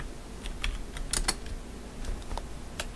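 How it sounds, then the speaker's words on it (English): Someone types a short title on a computer keyboard, with quick irregular key clicks, close and fairly quiet, and no talking. "we're going to go ahead and type our title."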